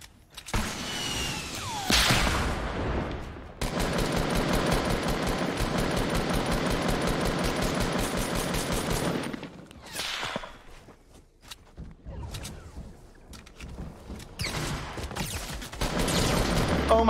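Sniper gunfire in Fortnite during a late-match fight: sharp cracks and a dense burst of rapid shots form a loud sustained stretch, broken by quieter gaps and further scattered bursts of shooting.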